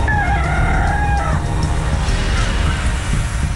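A Kadaknath rooster crows once, loud and near, over a steady low rumble of background noise, followed by faint clucking.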